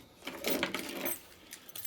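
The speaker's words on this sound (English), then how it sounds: "as I try to open this with my keys" Keys jangle and scrape briefly as they are used to pry open a water pouch from a Ready America two-person survival kit, a short close metallic rattle lasting about a second.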